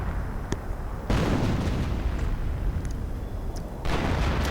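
Artillery shells land in a World War II strategy game battle, striking an enemy Pak 38 anti-tank gun: a sustained, loud rumbling blast of broadband noise, with a sharp burst near the start and another heavy roar at the end.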